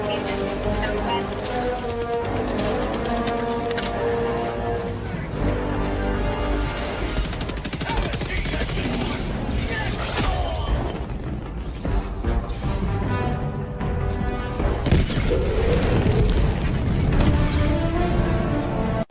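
Mini missiles from a mech in the Helldivers 2 video game fire and explode in a dense, loud barrage of crashing blasts and rapid bursts, continuous throughout, with game sounds layered together.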